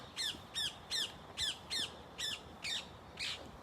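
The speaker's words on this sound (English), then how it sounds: "So here we have the birds singing." A bird repeats a harsh squawking call about eight times in steady rhythm, close and clear over a quiet outdoor background beside the Sea of Galilee.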